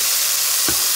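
Beef pieces for sancocho sizzle loudly and steadily in a hot pot, with a couple of dull scraping stirs near the end.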